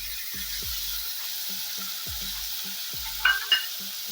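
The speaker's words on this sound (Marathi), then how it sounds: "कांदा परतून झाल्यानंतर मग आपल्याला हे कट केलेले टोमॅटो टाकायचे आहे" Chopped tomatoes frying with sautéed onion in a pan for Marathi matki dal aamti, a steady soft sizzle with repeated low scraping stirs and a couple of brief sharper clatters near the end, no talk.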